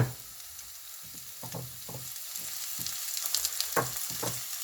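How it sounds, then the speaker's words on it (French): Onions and shallots sweat in olive oil in a saucepan, a soft steady sizzle with scattered crackles and light stirring knocks throughout. "maintenant je vais refaire suer les oignons et les échalotes qui restent"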